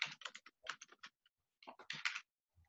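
Numbers are keyed into a form on a computer keyboard: quick clusters of light clicking taps in two short bursts separated by a pause, close and fairly quiet, with no talking.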